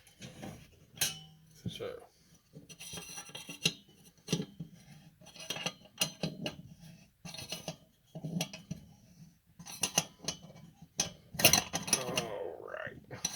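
A nut being tightened under a Coleman 228e lantern during repair, heard as scattered close metallic clicks, clanks and ratcheting taps in uneven bursts, with a brief spoken word partway through.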